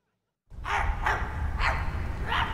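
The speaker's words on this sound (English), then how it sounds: "There are dogs." Dogs in a horror video game bark after a moment of silence, four sharp, loud yelps spaced about half a second apart over a low rumbling ambience; no speech.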